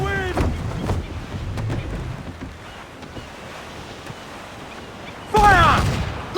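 Ship cannon fire during a naval battle in Assassin's Creed IV Black Flag, sharp booming blasts at the start and a louder roar near the end over wind and ocean surf, with faint shouted crew voices.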